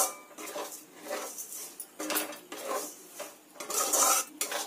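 Semolina sweet with sugar syrup being stirred in a pan over low heat, a spoon scraping and clinking against the metal in repeated close strokes with faint sizzling.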